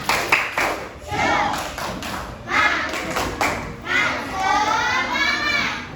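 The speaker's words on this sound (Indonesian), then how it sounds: "Oke, tepuk semangat." A classroom group of children performs a rhythmic clapping chant to build energy, with sharp claps in bursts mixed with shouted chanting voices, loud and close.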